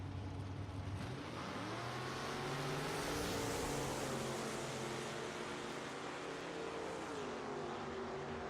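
A 1964 Chevelle nitro funny car races down a drag strip, its engine note sweeping upward and shifting as it accelerates away, heard from a distance at moderate level.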